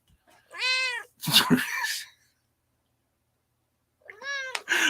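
Pet cat Oreo meows close by, two clear wavering meows in quick succession, then a pause of silence, then one more meow.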